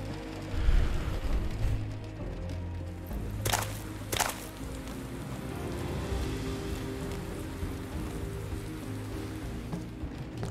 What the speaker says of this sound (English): It's just the rain.